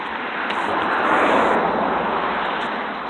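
Broadband ocean surf rolls steadily off the Big Sur coast beside Highway 1, a continuous wash of breaking waves mixed with wind buffeting the microphone, swelling slightly in the middle.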